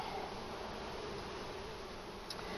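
Honeybees hum steadily inside a hive formed by combining three colonies, a continuous close buzzing drone with no talk over it.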